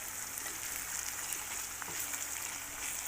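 Onion frying in a pan with courgettes and mushrooms, a soft continuous crackling sizzle with faint scattered pops, steady and fairly quiet throughout.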